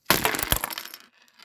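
A built Lego car is smashed, giving a sharp plastic crash followed by scattered clicking and clattering pieces that fade out within a second.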